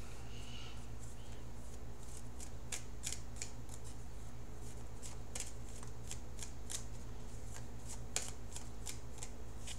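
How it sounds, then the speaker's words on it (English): Tarot cards being shuffled repeatedly, a steady run of crisp riffling snaps and flutters close by against a low background hum. "So let's shuffle for the outcome card."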